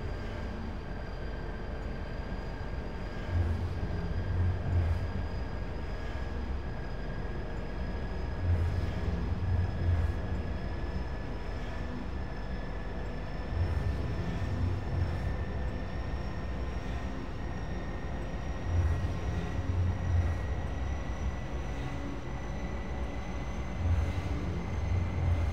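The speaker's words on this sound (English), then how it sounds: "This is, certainly a tram ride, I guess." A tram ride in the video game Entropy: Zero, heard as a continuous low mechanical rumble with a faint rising whine and periodic heavier rolling surges, loud and steady throughout.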